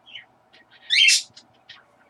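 A few scattered chirps from a small bird, then one louder, harsher squawking burst in the middle, followed by softer tweets.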